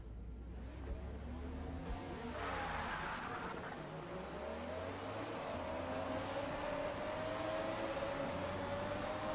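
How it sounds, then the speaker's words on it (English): Racing video game car engine drones steadily throughout with rising pitch as it accelerates, a brief tire skid near the start, continuous and close with no talking. "Car sounds great."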